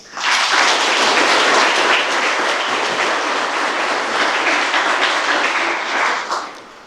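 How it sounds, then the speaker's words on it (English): Banquet guests at the Muleshoe Chamber of Commerce give a round of applause, a dense, steady wash of clapping that swells quickly, holds evenly for several seconds and then fades, with no talk over it. "let's give them a round of applause."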